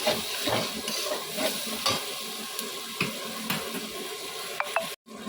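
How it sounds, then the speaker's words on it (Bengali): Chopped onions frying in oil in a pan for a spicy crab dish, with a constant sizzle broken by repeated scraping stirs and light clinks, then a brief cut to silence near the end. "এখানে পেঁয়াজটা একটু ভাজা হচ্ছে"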